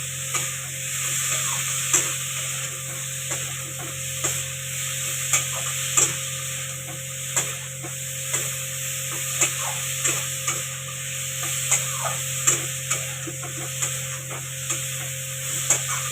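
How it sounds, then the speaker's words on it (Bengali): Soybean curry frying in a pan over a steady sizzle, with a spoon stirring and tapping the pan at regular intervals, close and continuous. "তো এখন সোয়াবিন রান্না হচ্ছে,"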